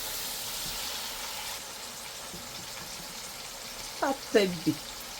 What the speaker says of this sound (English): I'll cook this beef for about 5 to 6 minutes before I'll add my water.